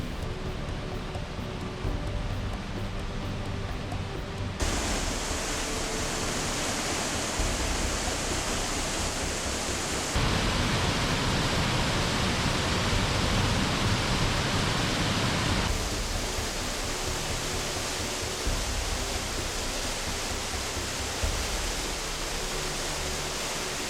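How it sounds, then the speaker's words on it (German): Allerheiligen waterfall in the Black Forest, a loud, unbroken rush of falling water heard up close, with level shifting slightly between segments. "Das war der letzte Wasserfall."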